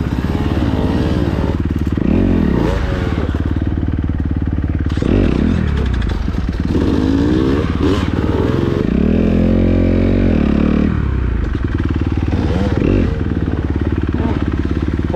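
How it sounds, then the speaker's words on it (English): A light motocross bike rides through dirt trails, its engine loud and close throughout, rising and falling as the throttle opens and eases, with occasional clatter from the terrain. "we're about to see how this motocross bike is gonna go through these trails."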